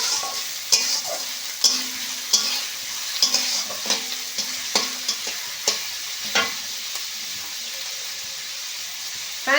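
Chopped onions sizzle steadily in hot oil in a pan while a utensil scrapes and stirs them in irregular knocks, close and fairly loud, with no talking.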